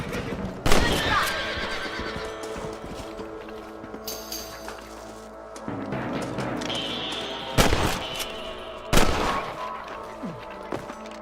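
A horse neighs several times in the video game Red Dead Redemption, with hooves clopping and sharp gunshots cracking through a loud, busy scene.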